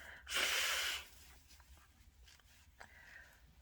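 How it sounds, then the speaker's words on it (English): One forceful nose blow, a loud breathy honk lasting under a second, followed by quieter sniffles and faint rustling. "I gotta blow my nose"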